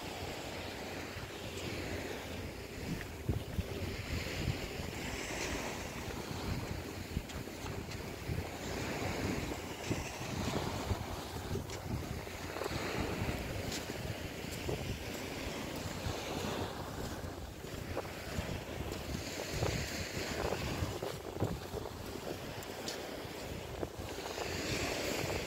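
Waves and gusty wind at New Brighton beach on the Irish Sea, with surf rolling continuously and wind buffeting the microphone, no voices.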